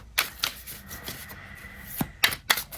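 Tarot cards are shuffled by hand in short, crisp riffling bursts separated by quiet pauses, close and fairly soft.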